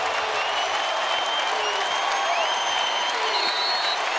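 Arena crowd at a Louisville college basketball game against Virginia Tech roars and cheers loudly and steadily, a dense wall of noise with applause and whistles, no clear talk on top.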